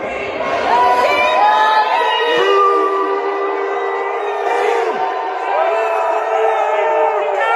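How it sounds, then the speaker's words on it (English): A crowd in Washington DC shouts and jeers at Trump administration officials, a loud continuous mass of voices with rising yells and whoops, close and sustained throughout. "funcionarios de la administración de Donald Trump siguen siendo atacados y abucheados por el pueblo de Washington DC"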